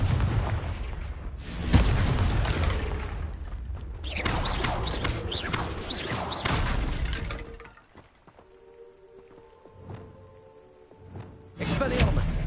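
Confringo blasting spell in a Harry Potter action game, heard as repeated crackling blasts and rumbling impacts over busy game sound, followed by a quieter stretch with tonal music and a final loud burst near the end.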